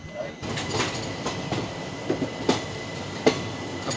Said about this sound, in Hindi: तो विशाखापट्टनम से हमारी ट्रेन निकल चुकी है।